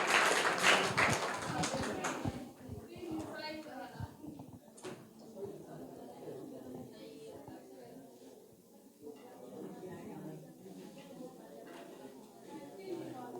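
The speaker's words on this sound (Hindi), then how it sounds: "करेक्ट आंसर इनका है। जोरदार तालियां इनके लिए।" A crowd of government school children claps loudly for a classmate's correct quiz answer, a dense burst of applause in the first two seconds that quickly gives way to someone talking over a murmuring room.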